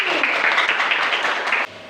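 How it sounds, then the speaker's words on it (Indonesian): Classroom applause for a student group, a brisk burst of many hands clapping that cuts off abruptly near the end, leaving quiet room tone. "Tepuk tangan untuk kelompok 1."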